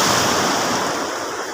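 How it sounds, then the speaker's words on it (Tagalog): Ocean waves rolling onto Sicar Beach in Governor Generoso, Davao Oriental, a steady broadband wash of surf with some wind, loud and continuous with no talking. "yung mga alon-alon doon"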